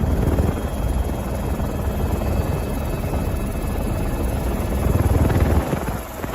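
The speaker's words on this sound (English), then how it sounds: "The helicopter footage from Switzerland." A helicopter's rotor drones continuously at moderate distance over flash flooding in Switzerland, a steady thrumming roar that swells slightly before easing off at the end.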